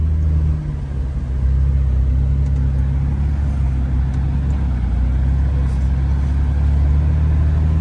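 Steady engine rumble and road noise inside a Jeep with a manual transmission moving along a road, loud and continuous throughout with no distinct gear changes, and no voices.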